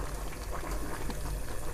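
Chicken karahi bubbling hard over a high flame as its water cooks off, a steady, dense boiling and sizzling that runs close and loud throughout with no talk.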